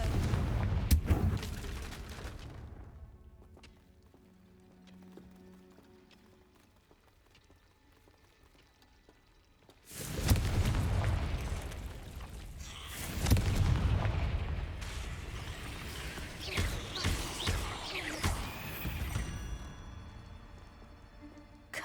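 Fiery Confringo spell blasts in Hogwarts Legacy: a loud booming explosion at the start, a quieter lull, then a heavy burst of blasts followed by further rumbling impacts and crackling debris.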